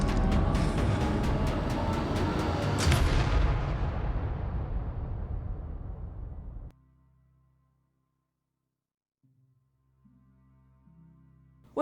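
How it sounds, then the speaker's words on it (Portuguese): A huge explosion as a power sphere bursts in a Stranger Things scene, a loud dense roaring blast with crackling debris that decays over several seconds into near silence, followed by a low rumbling tone. "Nancy atirou na bola e, como num ato instantâneo, a esfera de poder explode"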